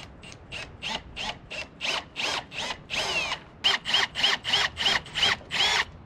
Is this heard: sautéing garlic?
no